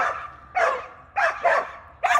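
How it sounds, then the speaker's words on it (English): A dog barks repeatedly and loudly nearby, four or five sharp barks in an irregular rhythm with short pauses between them. "Sorry for all the barking."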